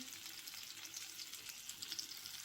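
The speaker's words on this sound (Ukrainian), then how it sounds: "Смажимо на великому вогні на олії цибульку." Onions frying in oil over high heat in a skillet, a faint, steady sizzle with small crackling pops scattered through it, heard close and alone.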